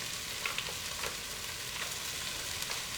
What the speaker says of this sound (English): I'm gonna add it in now with our vegetables that are sweating, just so it gets mixed in